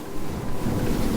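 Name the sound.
Axopar 38XC motor boat charging into a head sea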